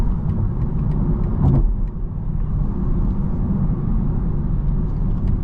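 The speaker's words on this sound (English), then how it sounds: "you can just step down and launch it forward" A 2023 BMW M240i accelerates hard from a launch, its engine and road rumble loud and steady throughout, with a brief swell near the middle.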